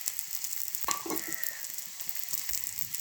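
Chopped ginger and a dried red chilli fry in oil for a Kerala-style buttermilk tempering, giving a soft, continuous sizzle with a few light metallic clinks and scrapes and no talking.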